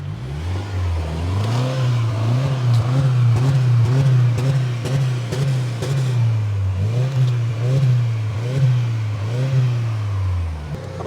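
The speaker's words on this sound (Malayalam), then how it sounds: "ഇപ്പോൾ നമ്മൾ റെവപ്പ് ചെയ്താലും അത് അങ്ങനെ ലൗഡ് ആവത്തൊന്നുമില്ല" A Subaru WRX engine revs repeatedly through its exhaust, loud and close, each blip rising and falling in a rhythmic series of swells over a steady idle, with no voices.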